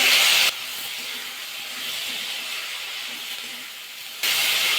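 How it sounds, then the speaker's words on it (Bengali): Water poured into a pan of hot ground spice paste while cooking lau shak, giving a steady steamy hiss and sizzle that holds for several seconds, louder at the start and end. "মশলার বাটিয়া দিতে জল দিয়ে দিলাম সামান্য জল"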